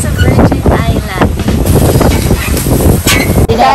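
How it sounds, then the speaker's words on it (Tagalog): Strong wind sweeping across Virgin Island off Bantayan, buffeting the microphone in a continuous loud roar with gusty swells, while voices speak faintly beneath it. "Ang hangin pala dito sa Virgin Island."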